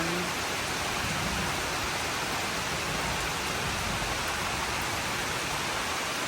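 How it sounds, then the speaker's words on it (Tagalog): Steady rain pours down in Tagaytay in a constant, even hiss, with no voices or other sounds. "Maulan na naman."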